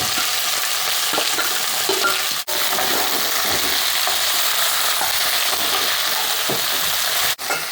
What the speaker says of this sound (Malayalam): ഇനി നമ്മുടെ കോവയ്ക്ക ഇട്ട് കൊടുക്കുക.